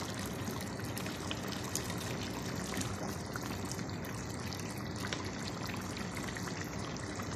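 Chicken and carrot cooking broth poured into rice for chicken mashbous, a steady, unbroken watery rush that holds at an even level for several seconds.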